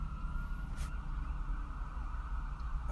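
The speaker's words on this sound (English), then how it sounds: "We got a ambulance run." A passing ambulance siren wails steadily over traffic rumble at moderate distance, one continuous tone holding through the clip, with no one talking.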